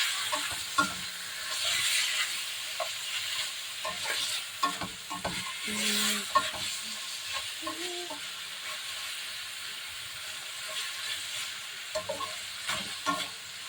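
Chicken with ampalaya (bitter gourd) being stirred in a hot pan for an Ilocano dish, a steady sizzle and hiss running throughout with repeated scraping strokes of the spatula, close and moderately loud, no talking.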